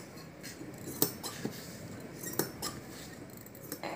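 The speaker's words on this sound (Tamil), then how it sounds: "இந்த மாதிரி கொஞ்சம் கொஞ்சம் நம்ம இப்படி கட் பண்ணி விட்டாதான் என்ன கழுத்து ஷேப்போ அது கொஞ்சம் அழகாக வரும்" Scissors cut blouse cloth to shape a back neckline, making a few sharp, close snips and clicks at irregular intervals over a soft hiss in a quiet room.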